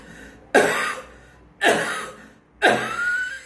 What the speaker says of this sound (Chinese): 所以你先演那个老人的咳嗽